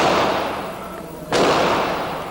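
A single sharp gunshot cracks out in Baghdad, a sudden loud report cutting through a steady noisy background before fading into lingering ambient noise.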